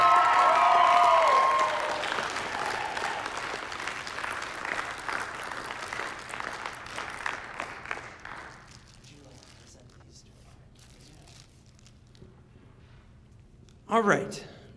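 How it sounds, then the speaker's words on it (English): Audience applause at a school music festival awards event, loud clapping from a crowd that fades over several seconds into a quieter room, with a brief burst of noise near the end. "so give a round of applause."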